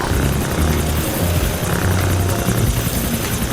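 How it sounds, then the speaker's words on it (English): A helicopter in the video game GTA 4 flies over open ocean, a loud steady rotor chop and engine drone filling the scene without pause. "be using a helicopter since there are no planes in GTA 4"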